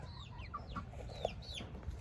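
Copper Marans chickens cluck in a coop, soft overlapping clucks and short calls at close range over a steady low rumble, without speech.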